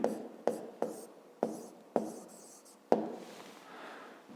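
Pen strokes on paper during a Ukrainian grade-5 maths exercise, a few quick scratchy bursts in a steady rhythm, close and fairly quiet, with no talking.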